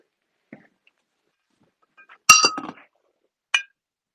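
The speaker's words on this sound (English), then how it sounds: "Gotta move some glass off of it." Glass and pottery items clinking inside a storage tote as they are shifted, a few sharp bright chinks, one faint clink, then a clustered rattle and a final single clink.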